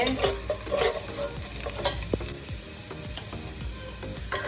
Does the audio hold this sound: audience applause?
no